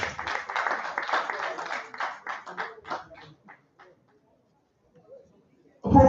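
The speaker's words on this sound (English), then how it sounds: "a round of applause for him" Applause for a past Rotary district governor at an installation ceremony, a short round of clapping that fades to silence within about four seconds, followed by a burst of louder noise at the end.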